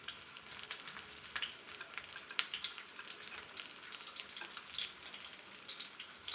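Homemade spring roll wrappers frying in hot oil, a steady bright sizzle with crackling pops throughout, close and continuous, with no talking.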